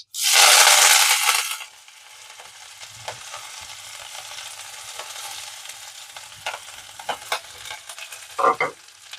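Sliced onion and curry leaves hit hot oil after mustard seeds have spluttered, for an eggplant curry. A loud sizzling burst settles into quieter frying with a few sharp utensil clinks and scrapes.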